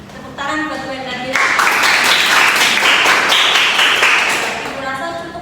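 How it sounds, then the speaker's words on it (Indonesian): A classroom group claps after a micro teaching lesson, a dense burst of applause that swells and fades, preceded and followed by a voice talking. "Ya, tepuk tangan buat gue tadi."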